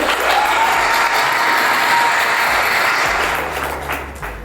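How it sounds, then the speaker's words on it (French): Crowd at a wedding ceremony applauding loudly and steadily at close range, a dense wash of clapping that fades slightly toward the end, with no voices standing out. "On acclame très fort."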